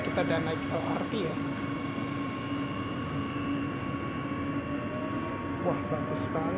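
Steady rumble and hum inside a moving Jakarta LRT train, with faint rattles and a continuous tonal whine; soft voices murmur underneath.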